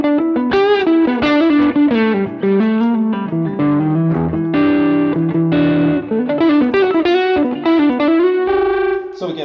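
An electric guitar played through a Mesa Small Box 50 amp on the plexi or clean channel with the gain all the way up, giving dense overdriven chords and sustained notes in a continuous loud passage.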